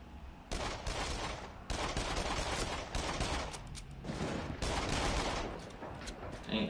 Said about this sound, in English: you get points when you shoot at the targets